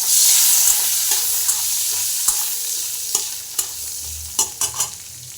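Cardamom and cinnamon sizzle in hot butter for a toddler's chicken stew, a steady bright hiss running throughout with several sharp spoon-against-pan clicks near the end.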